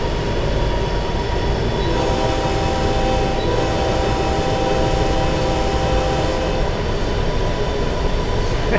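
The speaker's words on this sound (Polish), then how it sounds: "Patrzcie, jak się pociąg wije po tych zakrętach." A freight train led by a GP60M locomotive grinds steadily around curves on the Cajon Pass descent in Train Sim World 6, a loud, unbroken rumble with thin, sustained wheel-squeal tones running through the middle.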